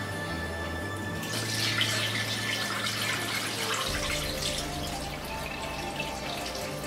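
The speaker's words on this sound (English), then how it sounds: "Okay, so just giving the rice a wash." Rice being washed in water, a steady close rushing and sloshing of running water that carries on unbroken, with no talking.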